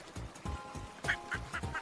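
Cartoonish duck quacks from the online video game Duck River repeat in a quick, regular pattern of about eight short calls, fairly quiet and alone.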